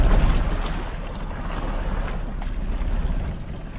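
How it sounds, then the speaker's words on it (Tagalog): A fishing boat's engine drones steadily at sea, a dense, even low rumble blended with wind and wave wash throughout, with no talk. "nagandar na yung makina"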